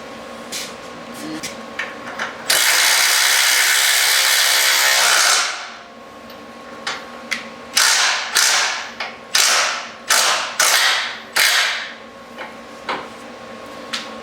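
Leaf spring bolts on a vehicle being tightened with a wrench: one long, loud mechanical burst, then a quick series of short, sharp rattling bursts close by, with a few small knocks between them.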